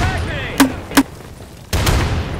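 Gunfire in the video game Insurgency during an embassy battle: two sharp, loud shots about half a second apart, followed by a burst of dense firing, with some voice under the mix.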